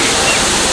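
Water pours steadily from traditional stone water spouts, a dense close rushing splash filling the short moment with no pause.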